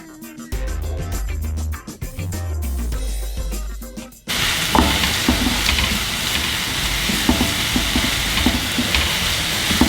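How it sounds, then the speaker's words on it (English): Minced meat frying on high heat in a pan for a Turkish egg dish, giving a loud, steady sizzle with stirring scrapes that starts abruptly after a few seconds of music and continues to the end. "So now we can fry the meat."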